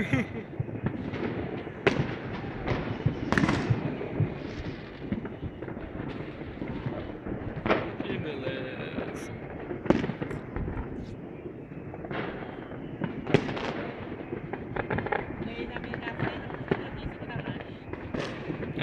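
New Year fireworks explode around a rooftop slab, with repeated booms and crackling bursts at varying distances, some sharp and near, while people talk and laugh throughout.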